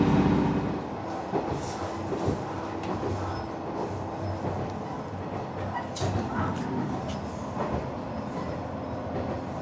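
A local train runs along a line in Japan past cherry blossoms, its steady interior rumble and wheel clatter filling the cabin, with faint rattles and clicks over a constant low drone and no talk.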